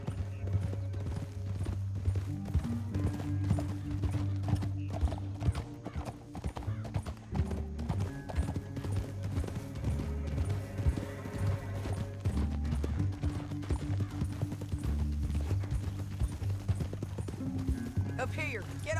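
Horses gallop in the video game Red Dead Redemption 2, a loud steady drumming of hooves with brief whinnies, under in-game dialogue and a music score.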